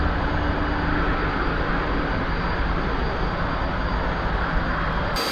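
A T-45C Goshawk jet aircraft takes off and climbs away, its engine a loud, steady roaring rush that holds constant throughout.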